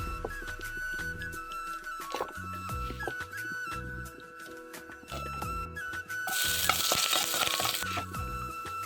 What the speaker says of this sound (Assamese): এইফালে কেৰাহীত পাতি থৈছোঁ, পটাপট তেল চেল দি